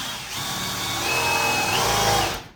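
A power drill bores a 22 mm hole for 15 mm pipework in a bathroom under renovation, a loud steady whine that holds for a couple of seconds before stopping.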